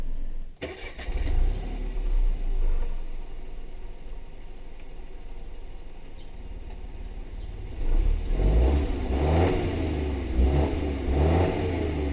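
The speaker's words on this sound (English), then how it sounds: "let's fire up the Grandland and hear the engine" A 2022 Opel Grandland 1.2 GS-Line engine cranks and catches, then settles into a low steady idle heard from nearby, followed by a few rising revs toward the end.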